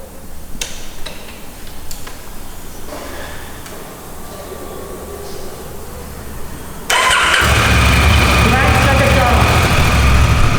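A Honda Africa Twin motorcycle, beat up after sitting in a shed, cranks with some ticking and clicks before the engine catches and settles into a loud, steady idle close by.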